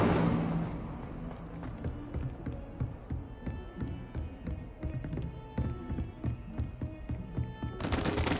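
Incendio fire spell being cast in Hogwarts Legacy, a dense rapid crackling burst of fire with sharp repeated pops over several seconds, loud, flaring again at the end.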